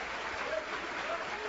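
Steady, dense clapping from a church congregation, a continuous wash of applause that neither builds nor fades, heard alone without voices.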